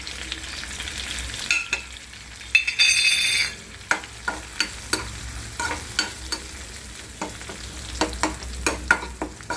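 Tomatoes roasting in a pan with asafoetida and red masala, sizzling steadily while a spoon scrapes and taps the pan in a regular rhythm, close and clear with no talking.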